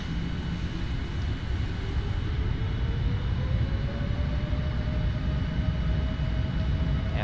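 Boeing 787-9 engines at takeoff power in a flight simulator, a steady loud broadband roar with a slowly rising whine building over several seconds, continuous and close.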